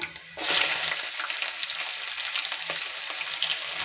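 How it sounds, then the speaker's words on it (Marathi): Chopped onion hits hot oil in a pan with fried peanuts for kande pohe, a sudden loud sizzle that steadies into continuous crackling frying with faint stirring. "कांदा तेलामध्ये छान परतवून घेणार आहोत"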